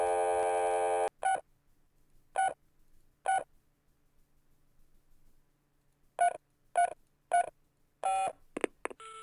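Telephone keypad tones from Spycraft: The Great Game on DOS: one long tone, then a single beep, a pair, and a rapid run of short bright beeps, each tone clean and close against silence.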